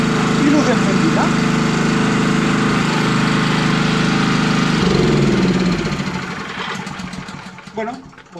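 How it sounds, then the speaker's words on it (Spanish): A portable petrol generator, pull-started, chugs loudly and steadily nearby, its engine note dropping and fading after about five seconds, with a person talking over it. "tirando del motor de arranque, tenemos el suministro eléctrico garantizado"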